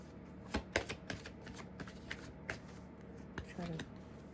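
Tarot cards are drawn and flicked from a deck in a series of soft, crisp snaps and slides, spaced irregularly at close range against a quiet room.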